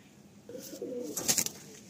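A male Chotiyal Madrasi pigeon gives a single brief, low, throaty coo up close, followed by a short rustle, with no voices.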